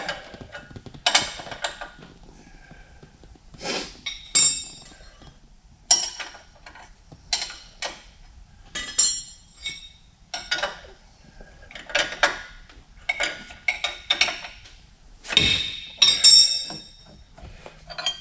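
Metallic clinks and ratcheting clicks come in short, irregular bursts as bolts are tightened on a lift kit for a 2022 Ford F350, close up, with quiet gaps between bursts and no talking.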